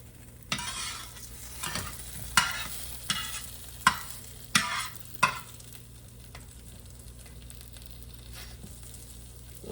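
A folded birria taco frying in a pan gives a soft steady sizzle while a spatula presses it down in a burst of six or so sharp scrapes and taps, then the frying settles quietly.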